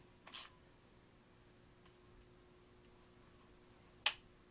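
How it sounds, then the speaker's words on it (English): A film camera's mechanical shutter fires twice in a quiet room, each a single crisp click, the second sharper and louder, separated by about four seconds of near silence. "So actually the shutter still works on it."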